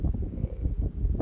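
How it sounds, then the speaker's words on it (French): Wind buffets an outdoor microphone during a French-language live question-and-answer session, producing a continuous low, rumbling roar with gusty swells. "Il y a un peu de vent."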